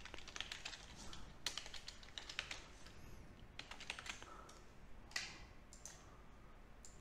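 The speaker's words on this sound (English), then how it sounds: "Type the email address because it's outside of the organization." Quiet, close typing on a computer keyboard, a rapid irregular patter of light key clicks in short bursts with brief pauses, no voices.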